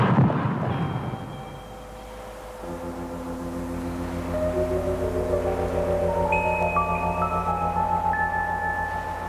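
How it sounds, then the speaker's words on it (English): A light gas gun fires at a prepared Earth-like crater target in an evacuated lab room, with a dull boom followed by a long ringing, humming tail of sustained tones that layer and rise over several seconds. "The gun is fired."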